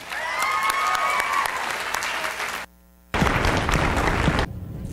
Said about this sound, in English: So please give a warm round of applause for Miss Rebecca Benjamin